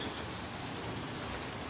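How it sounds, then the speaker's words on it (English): Steady rain falling outside on an April day in Indianapolis, a dense continuous hiss of drops with no pauses, fairly loud and close, with no voices. "It's raining outside."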